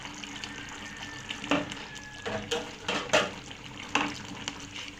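Chicken gravy simmering in a pan for a Bengali-style chicken roast, with soft bubbling and occasional stirring scrapes and clinks at close range, no talking.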